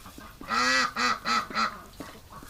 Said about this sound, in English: Poor duck.